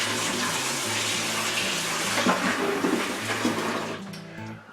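Water gushes steadily into a wine fermenting bucket as it is swilled out, a loud continuous rushing splash with hollow resonance that cuts off abruptly at the end.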